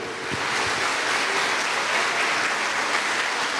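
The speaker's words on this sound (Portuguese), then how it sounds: "Você pode aplaudir o nome dele?" A church congregation claps steadily through a Sunday fasting service, dense sustained applause filling the room with no pauses.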